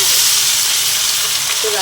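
Whole cumin, black peppercorns, cinnamon, cardamom, cloves and green chillies sizzle in hot oil, a steady loud frying hiss that fills the whole moment, close up.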